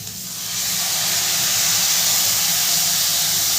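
Green chili and ginger paste hitting a hot pan for a vegetarian korma, a loud steady hissing sizzle that swells in the first half second and then holds evenly.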